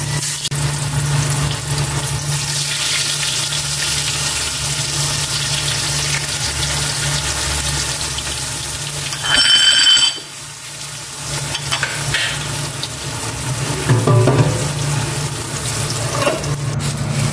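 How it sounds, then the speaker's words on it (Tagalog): Pork fries in a pan with a steady, loud sizzle close by, a continuous crackling hiss with occasional louder spatters and stirring scrapes. "Prito ko naman itong pork."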